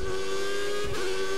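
A Formula 1 race car engine in the F1 2014 video game revving up to the rev limiter, a loud sustained high-pitched whine with a brief dip and stutter near the limit before holding again.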